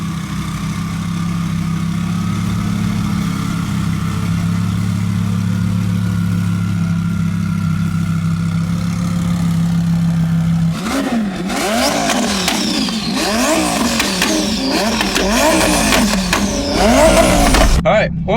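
Twin-turbo Audi R8 engine, idling with a steady low drone before it breaks into loud, surging revs that rise and fall repeatedly, with voices talking over it.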